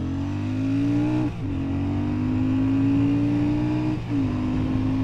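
A new Royal Enfield Shotgun 650 motorcycle engine accelerates through the gears, its pitch climbing steadily, dropping briefly at two gear changes before rising again, heard close and continuous.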